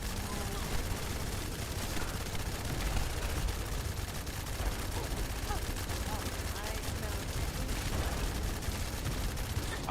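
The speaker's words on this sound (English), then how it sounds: "Firing and backing up." Sustained automatic gunfire in The First Descendant on hard mode, a steady dense barrage of shots with game effects layered throughout and talk over it.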